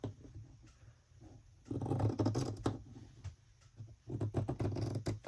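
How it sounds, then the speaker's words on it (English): Tim Holtz scissors snip through fleece fabric in a crafting session, giving two bursts of rapid, close-up crunchy cutting strokes separated by a quieter pause. "I need to cut this fleece down to about, I'll just use these scissors."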